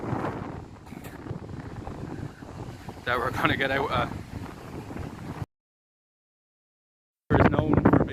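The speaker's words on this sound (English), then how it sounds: "sorry if it's very windy, lads" Strong gusting wind at the beach at Windy Gap in Ireland, a constant broadband roar of wind buffeting the microphone while a person talks over it, cut by a brief silent gap before the blustery noise returns.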